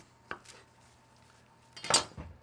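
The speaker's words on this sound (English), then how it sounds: "And a little rough chop." Knife rough-chopping fresh parsley and cilantro on a cutting board, a few sharp close knocks, one at the start and a louder cluster near the end, with quiet between.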